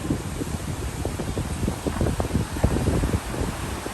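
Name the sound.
strong wind blowing on an island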